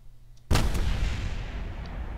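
A shell fired in the BDArmory mod for a flight and space game bursts in mid-air: one sudden loud boom whose rumbling tail fades slowly over two seconds, heard alone with no talk.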